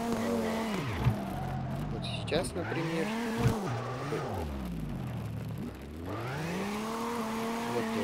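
A car drifts in CarX Drift Racing 2, its engine revving up and down in repeated sweeping swells, with tire squeal and skidding under someone talking over the gameplay.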